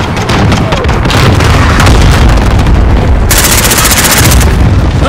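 Cluster strike explosions in a Call of Duty-style shooter, a dense, loud rumbling barrage of overlapping booms and bursts filling the whole clip, with a bright crackling surge in the second half and no clear voices.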